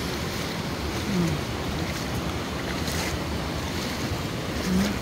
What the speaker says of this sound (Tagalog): Ito ang lakas ng agos.